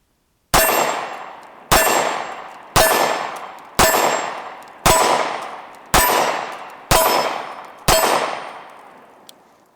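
A Hi-Point C9 pistol fired eight times at an even pace, each loud sharp crack followed by a long ringing echo, close up with no voices.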